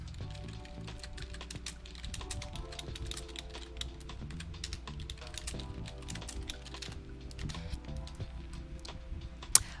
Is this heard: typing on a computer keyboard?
yes